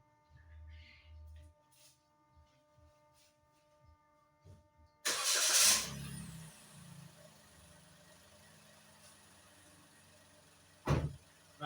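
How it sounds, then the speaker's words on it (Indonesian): A Toyota Raize engine cranks and starts with a loud burst, then settles into a steady low idle, heard close inside or beside the car after quiet clicks and beeps, with a thump near the end. "Kita coba nyalakan mesinnya."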